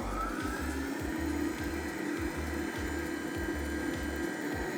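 A stand mixer at low speed beats cookie dough after dry ingredients go in, a faint steady motor hum with a regular thumping rhythm from the beater, no voices.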